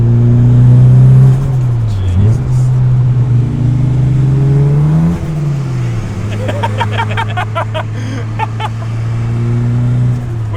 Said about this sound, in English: It just spun the inside wheel.